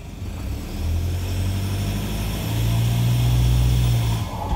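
Engine of a Toyota Prado idling and then rising in a steady, loud, low drone as the vehicle is put into drive, heard close with no speech.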